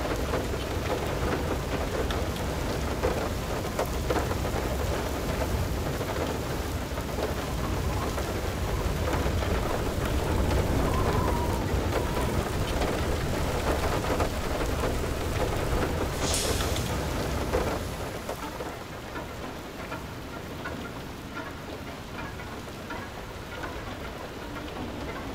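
A hailstorm with rain and rolling thunder in the video game FAR: Lone Sails roars as a dense, continuous downpour, then drops to a quieter steady patter near the end; no one speaks.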